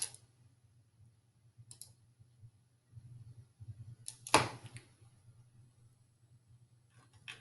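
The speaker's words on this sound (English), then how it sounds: "I'm going to hover the mouse over my login, click on it, add another account." A computer mouse gives a few sparse, soft clicks, with one sharper click in the middle, against a low, quiet hum.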